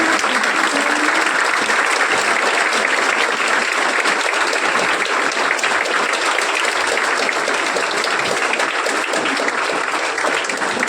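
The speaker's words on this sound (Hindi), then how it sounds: "ये तालियां बजती रहे।" An audience at a coaching classes function claps for a district official: dense, continuous applause that stays loud and close for about eleven seconds, with no break.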